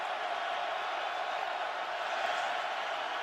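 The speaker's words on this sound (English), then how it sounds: "this overflow crowd vocally behind the Huskies" An overflow stadium crowd at a Michigan vs. UConn college football game roars steadily for the Huskies, a constant dense wash of cheering heard from a distance.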